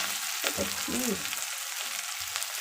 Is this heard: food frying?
yes